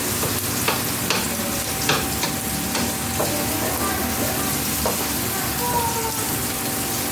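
Onion and garlic sauté together in a pan, giving a dense, steady sizzle with occasional scraping clicks as they are stirred, close and continuous.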